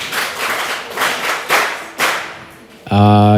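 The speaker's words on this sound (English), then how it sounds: "Please clap for the debaters." A small school audience at a student debate competition claps in a few uneven bursts, close and fairly loud, fading out after about three seconds before a voice begins speaking.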